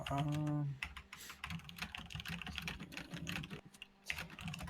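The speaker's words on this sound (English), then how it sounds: "It doesn't even sound like you're typing. It just sounds like you're hitting your keyboard." Fast, uneven clatter of computer keyboard keys being struck hard rather than typed smoothly, with a brief tonal sound at the start; steady and close throughout.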